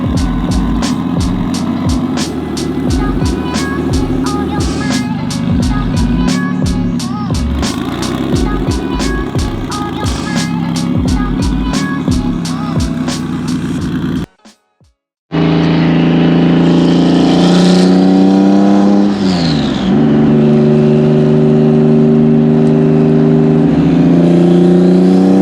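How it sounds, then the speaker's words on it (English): An EG33-powered Subaru WRX STI revs loud and close with rapid rhythmic firing, then after a brief cut it accelerates hard with rising engine tone as the tires break loose. "Fucking broke the tires loose."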